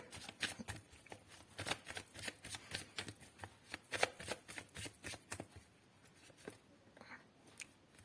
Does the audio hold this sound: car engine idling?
no